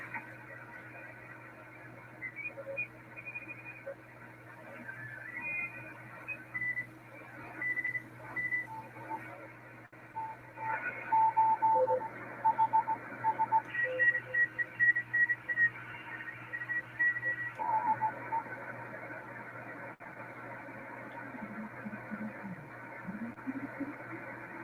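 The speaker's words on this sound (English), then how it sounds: "Okay, there's some Morse code." Morse code tones come through a ham radio receiver as short, steady beeping bursts over a constant band of static, with a voice talking over parts of the reception.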